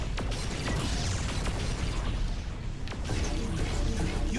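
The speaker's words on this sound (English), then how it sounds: "With all these explosions, either it's under attack or it's coming apart." Explosions rip through a ship in the video game Saints Row IV: a dense, loud, unbroken wall of crashing blasts and rattling debris, with sharper bursts breaking through near the start and again around three seconds.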